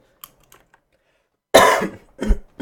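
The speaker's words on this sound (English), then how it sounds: "I can't stop coughing." A sharp burst of coughing after a few faint clicks, followed by two more short coughs, close and loud.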